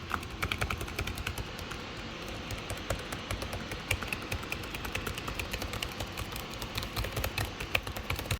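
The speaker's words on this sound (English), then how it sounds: "I'm going to start typing away." Rapid, steady clicking of keys being typed on a Dell XPS 15 (9510) laptop keyboard, continuously, close up, with a low background hum and no talking.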